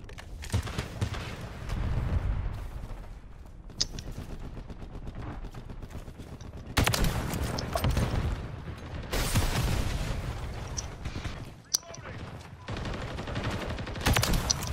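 Rapid gunfire from a first-person shooter match, dense bursts of automatic shots rattling continuously for several seconds with brief pauses between volleys, loud and close.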